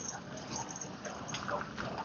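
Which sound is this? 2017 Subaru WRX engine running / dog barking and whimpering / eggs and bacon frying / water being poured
dog barking and whimpering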